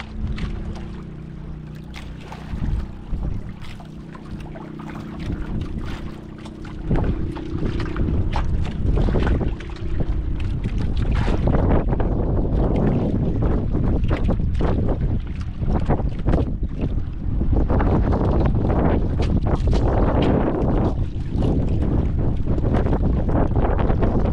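Strong wind buffets the microphone at sea aboard a boat, with a steady low engine-like hum in the first half before loud, broadband gusting roars take over and continue unbroken to the end.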